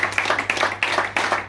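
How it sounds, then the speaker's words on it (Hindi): A small audience at an Ambedkar Jayanti gathering in an SC-ST association office claps in brief, uneven bursts, fairly close and lively, with no talk over it. "पाटिल साहब जोरदार तालियां।"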